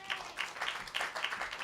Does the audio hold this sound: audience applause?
yes